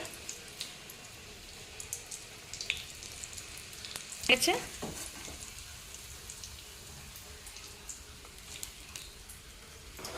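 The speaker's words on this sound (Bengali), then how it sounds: "এই দেখো লাল লাল করে বেজে নিই আঁচটা একদম কমিয়ে কমিয়ে বাজতে হবে" Egg cutlets fry in a pan over low heat, giving a quiet, steady sizzle with a brief clatter of utensil or pan movement partway through, alone without talking.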